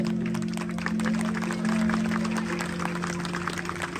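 A crowd at an Independence Day celebration in Indra Nagar, Delhi claps in a continuous, dense burst of applause over a low steady hum, holding at even loudness for the whole stretch.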